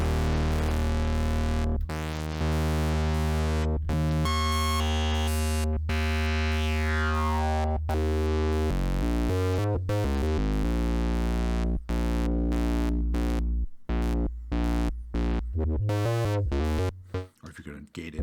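Sequential Pro 3 synthesizer running a sequence as its filter is opened, a bright buzzing tone with sweeping, shifting pitches and abrupt cuts, loud and close with no talk.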